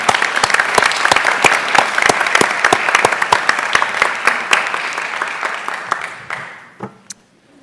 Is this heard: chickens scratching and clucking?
no